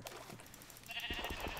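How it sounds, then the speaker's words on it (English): Sheep in Minecraft bleat a few short times from close by, a soft wavering call that gets louder toward the end, with no talking. "It's sheep."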